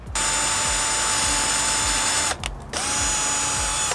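A power drill fitted with a 1-inch bit or hole dozer runs at high speed drilling a hole in a Sprinter van, stops briefly, then revs back up and keeps drilling loudly and steadily.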